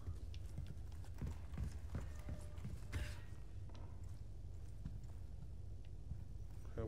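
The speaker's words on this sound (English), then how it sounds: "Okay, well, those footsteps." Heavy, creaking footsteps thud at irregular intervals somewhere nearby in a dim Resident Evil 4 Remake interior, low and muffled against a quiet background, with one sharper knock midway.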